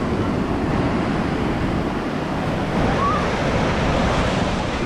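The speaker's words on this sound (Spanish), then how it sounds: "Ya andamos ahora aquí a la orilla de la playa de Osnar, California, amigos." Ocean waves wash onto the shore at Oxnard beach in California, making a continuous hissing surf with a gentle swell partway through, blended with some wind noise.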